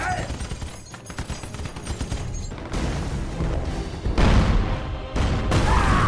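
Gunfire and explosions from a war film battle scene between Allied troops and Nazi soldiers: loud continuous bursts and rumbling blasts fill the mix, with a voice speaking over part of it.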